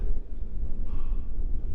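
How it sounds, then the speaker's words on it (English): Steady wind roars and buffets against the microphone throughout on a high, snowy spot at -7°C wind chill in the UK, a low rumbling gust with no speech. "As you can hear, it's a bit windy up here."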